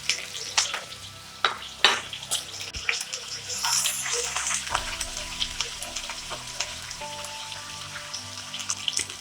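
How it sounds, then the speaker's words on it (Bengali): Onions and green chillies frying in hot oil with bay leaf for begun bahar: a steady close sizzle with scraping stir strokes and clatters early on, continuing alone without talk. "পেঁয়াজটাকে অল্প ভেজে নিতে হবে।"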